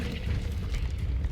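A fire spell cast in the Hogwarts Legacy video game gives a steady, loud, low roaring burst of flame that holds for the whole moment, with no voices over it.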